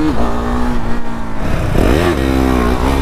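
A motorcycle pops a wheelie on the road, its engine roaring loud and close in a sustained rev that dips and climbs again partway through.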